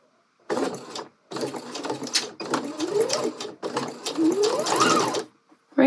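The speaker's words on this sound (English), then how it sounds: "on the innermost edge of the bias binding, is where you're going to be stitching" A sewing machine runs in several close bursts while stitching along the inner edge of bias binding, with short pauses between runs as the fabric is guided; a voice talks over it.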